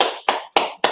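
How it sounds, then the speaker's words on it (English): A group claps hands together after a scripture breakdown class, with several sharp bursts of applause arriving in quick, uneven succession, loud and close. "let's clap it up."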